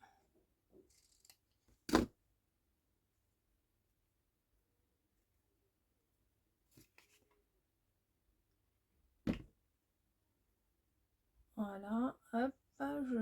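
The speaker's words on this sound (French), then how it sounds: "je vais couper un peu plus les bouts." Scissors trim the ends of a home decor craft piece with a few sharp, isolated snips spaced apart in a quiet room, followed by a person speaking.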